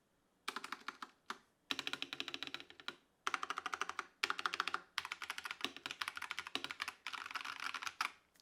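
Typing on a stock hot-swappable budget mechanical keyboard fitted with Akko CS switches, a close, steady run of crisp clacky keystrokes in bursts with brief pauses, no voices.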